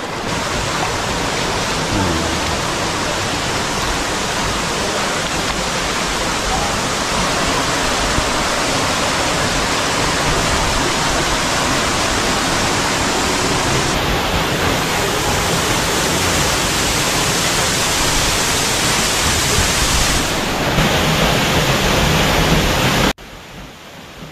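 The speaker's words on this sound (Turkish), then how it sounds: "Nusretiye Şelalesi yaklaşık 25 metre yüksekliğinde dökülen kaya oluşumları" Steady, dense roar of falling water from the roughly 25-metre Nusretiye Waterfall in Gölcük, Kocaeli, Turkey, loud and continuous, close by, fading abruptly near the end.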